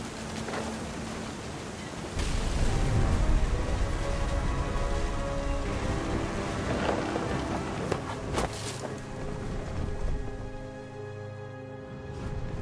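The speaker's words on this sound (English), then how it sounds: "Thunder sounded much too close and full of angry power." Rain patters steadily in the video game What Remains of Edith Finch, with a broad rushing wash and a low rumble swelling in the middle, fairly loud and close with no speech.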